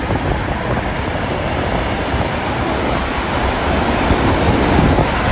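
Ocean surf at a beach roars in a dense, unbroken wash of waves, loud and close with wind buffeting the microphone throughout.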